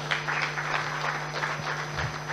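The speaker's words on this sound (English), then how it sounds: "I think that deserves a round of applause" Audience applause at the 2024 Tony Elumelu Foundation selection event, a steady wash of clapping from a crowd that holds for the whole stretch with a few louder bursts.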